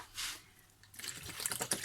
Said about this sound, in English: you want to take your half pint of cold water